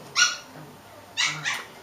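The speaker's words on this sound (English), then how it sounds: "We have puppies playing in the next room, so that little squeaking noise is that" Puppies squeak and yip from the next room, three short high-pitched cries, fairly faint and distant, with no talk over them.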